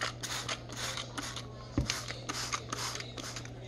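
A handheld spray bottle of filtered water squirts over microgreen seeds in a row of quick, close hissing bursts, fairly faint over a steady background hum.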